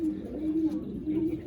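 Madras pigeons at a champion-bloodline loft coo in steady low repeated phrases, fairly close, with a soft murmur of voices and loft noise underneath.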